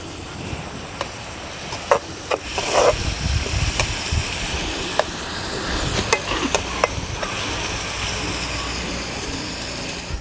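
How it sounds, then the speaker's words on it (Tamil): Chopped onions sautéing in a pan with a little salt while making egg kuruma, a steady soft sizzle with occasional stirring clicks and scrapes running throughout, no talking. "வெங்காயம் நல்லா வதங்கிடுச்சு."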